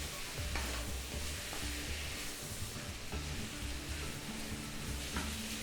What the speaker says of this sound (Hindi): अब मसालों के साथ चिकन को भूनते हैं।